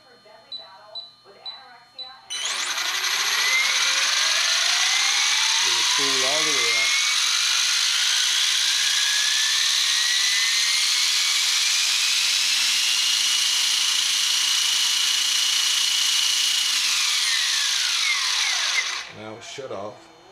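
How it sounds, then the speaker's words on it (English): The small electric motor of a T-Rex 450 RC helicopter whines up to a high, steady pitch with rising tones, holds loudly for about sixteen seconds, then spools down; brief voices before and after. "we're going to adjust this position until the helicopter spools up."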